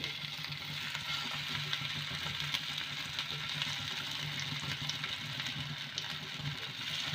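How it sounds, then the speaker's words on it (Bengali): Vegetable kebabs sizzle in hot oil in a pan, a steady, even hiss of frying that runs throughout with no pauses, close and moderately loud. "সব কাবাবগুলো বানিয়ে নিয়েছি তেলটা গরম হয়ে গেছে এবার আমি একটা একটা করে দিচ্ছি"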